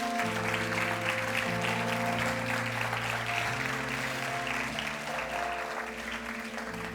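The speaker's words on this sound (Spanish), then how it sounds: "Usted le da un fuerte aplauso al Señor" Church congregation clapping for the Lord, steady sustained applause over held organ or keyboard chords, fairly quiet and even throughout, fading slightly near the end.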